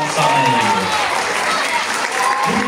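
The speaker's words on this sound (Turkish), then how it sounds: "Cem Demirhan alkışlarla sahneye geliyor" An audience at a school chess tournament award ceremony in Üsküdar applauds steadily as a player comes to the stage, with an announcer's voice speaking over the clapping.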